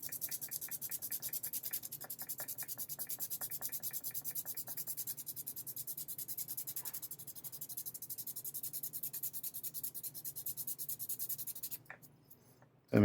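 A 3D print being sanded by hand with 80 grit sandpaper on its back side, a steady gritty rasping of quick back-and-forth strokes, close and fairly quiet, ending in a few louder knocks.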